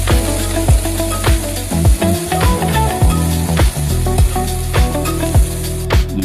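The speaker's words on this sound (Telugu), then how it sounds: "ఇప్పుడు ఆనియన్స్ అందులో వేయండి." Onions frying loudly in hot ghee with whole spices such as cardamom, cinnamon, cloves and star anise, a steady close sizzle broken by regular knocking strokes of a utensil stirring the pan.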